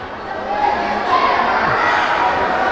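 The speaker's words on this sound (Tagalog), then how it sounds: "And the crowd almost parang sasabog to kahit hindi ganun kapuno yung venue" A loud, dense crowd roars and cheers steadily at a boxing match in a venue that is not full, with the noise swelling slightly partway through.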